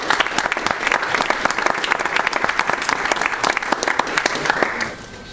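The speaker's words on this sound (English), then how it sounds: "Please give these people and our sponsors a round of applause for their commitment." Crowd at a Take Back the Night rally claps for the planning committee and sponsors, a lively spread of individual hand claps with sharp distinct strikes, tapering off at the very end.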